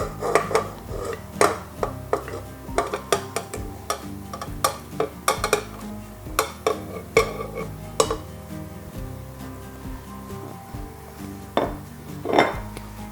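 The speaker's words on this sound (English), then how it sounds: "Grab a spatula. And we're going to get this into our mixer." A pound of cubed butter scraped from a bowl into a mixer with a spatula, a long run of irregular clinks, knocks and scrapes against the bowl, close and fairly loud with no talking.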